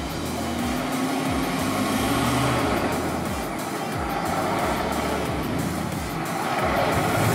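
A Toyota Hilux pickup truck accelerating hard on a test run, its engine note rising steadily under loud, continuous wind and road roar.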